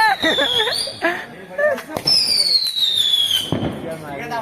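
Sharp firecracker bangs and crackles go off near the microphone during Diwali celebrations, along with high whistling shrieks rising and falling, while people talk excitedly over them.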